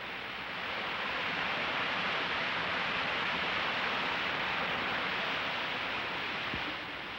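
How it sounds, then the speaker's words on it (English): Constant rushing roar of falling water, dense and even, swelling in and fading out at the ends. "Wow! What a waterfall!"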